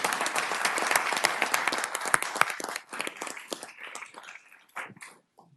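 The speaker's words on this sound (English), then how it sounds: "So round of applause for just showing up and supporting me too." Audience at a city council meeting clapping in a burst of applause, loud and dense at first, then thinning out into scattered claps and fading to quiet.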